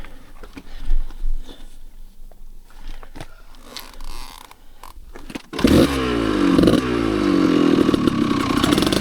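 Dirt bike on a snowy single track, quiet rustling and clatter at first, then the engine fires up and revs loudly nearby with a rough, pulsing drone for the last few seconds.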